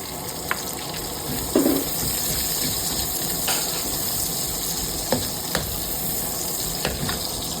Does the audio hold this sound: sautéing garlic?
yes